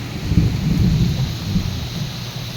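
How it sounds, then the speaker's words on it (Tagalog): Deep thunder rumbling low and continuous through steady rainfall, a broad dull roar that swells early and lingers, with no voices. "So kumukulog na naman mga kaibigan."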